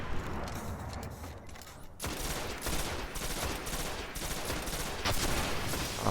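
Rapid gunfire rattles through a shooter video game battle near a cave, a dense, continuous barrage of shots that grows heavier after two seconds and stays loud throughout.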